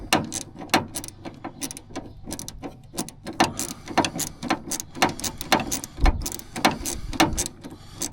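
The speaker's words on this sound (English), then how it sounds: "Right, we're going to slacken this Jubilee clip off." A Jubilee hose clip is slackened on a Triumph Stag's radiator hose, giving a close, quiet series of irregular clicking and ratcheting tool sounds with short pauses between turns.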